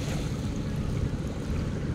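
Boats and barges move on the river at a rural ferry landing, a low rumbling engine churn mixed with lapping water, steady and fairly close.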